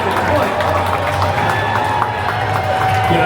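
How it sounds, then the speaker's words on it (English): A crowd at a Tennessee Titans practice cheers and murmurs excitedly after a deep completed catch, a broad, steady roar from the stands with voices mixed in. "That got the crowd a little excited."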